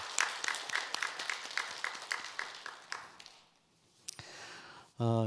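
Church congregation clapping for the Hosanna choir at a Sunday afternoon dedication service, fairly quiet rhythmic applause that fades out after about three seconds, followed by near silence and a few brief knocks.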